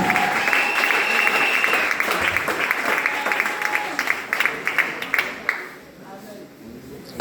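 Congregation applause at an evangelical church gathering in Divo, steady dense clapping from a large crowd, with voices mixed in, thinning out and dropping off toward the end.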